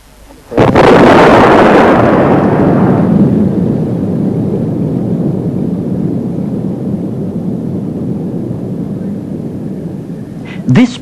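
Dynamite blast in a quick clay terrace at a 1978 landslide site at Rissa: a sudden loud boom that decays into a long, rumbling roar, ending in a brief crackle.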